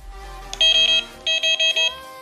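A Delkim fishing bite alarm being switched on sends out a bright, high electronic beep in two quick bursts of repeated tones, with a short pause between the bursts and quiet room noise underneath.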